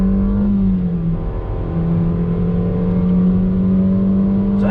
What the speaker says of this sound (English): let's see how the Versa handles on throttle through this right-hand bend